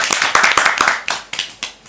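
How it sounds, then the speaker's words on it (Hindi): Audience at a children's poetry gathering clapping to welcome a young poet to the stage, a short, close burst of sharp, irregular claps that thins out toward the end. "तालियों से किया जाए।"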